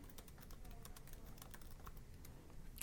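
Steady, rapid typing on a computer keyboard while writing HTML code, a continuous patter of close key clicks over a constant background hum.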